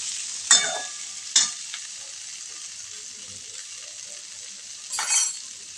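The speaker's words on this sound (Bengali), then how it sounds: "আলুগুলো দিয়ে কষাবো।" Boiled, halved potatoes are stir-fried in spice paste, with a gentle steady sizzle and a few distinct stirring scrapes near the start and end.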